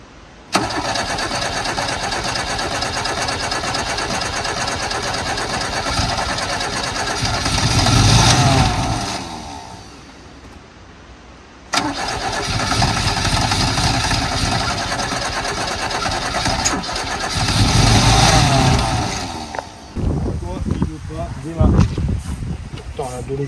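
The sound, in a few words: old abandoned car engine starting attempts after refuelling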